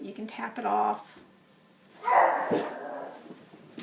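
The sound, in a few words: dogs barking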